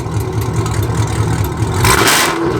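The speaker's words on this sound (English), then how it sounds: "Can you rev it?" A Chevrolet Camaro SS V8 with loud aftermarket headers revs up close, a dense rumbling idle rising into a harsher, louder rev toward the end, with no talk over it.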